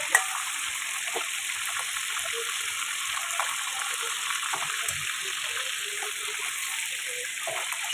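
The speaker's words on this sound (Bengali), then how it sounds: "কাঁচা মাছটা দেখছি কি হচ্ছে, একটু কড়া কড়া করে লাল লাল করে ভাজবো।" Raw fish frying in a pan of hot oil, a steady crackling sizzle with scattered pops and spits, close and continuous, with no voices.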